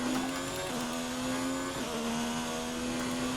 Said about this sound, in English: You hear that engine absolutely just whine with pain as we hammer through the downshifts.